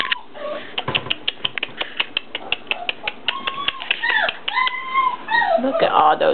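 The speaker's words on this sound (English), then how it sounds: "Look at all those puppies over there." Four-week-old Goldrush puppies whimper and yip in a rapid run of short, close clicks and squeaks, with thin whining cries rising toward the end.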